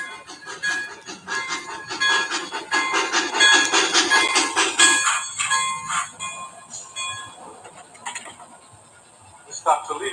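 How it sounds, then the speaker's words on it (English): The 20th Century Limited passenger train from Chicago pulls into a station with rumbling wheels and clattering cars. A high whistle-like tone sounds near the middle, then the noise fades to quieter station ambience. "we have track 1 from Chicago, train number 26, 20th Century Limited"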